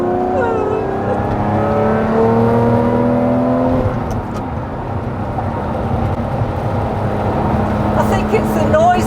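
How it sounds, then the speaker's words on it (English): A Lamborghini Murcielago's engine revs hard under acceleration, loud and close from inside the car, its rising tones climbing then dropping with a gear change before building again, with voices talking over it at times. "I think it's the noise the car makes that makes it even faster as well"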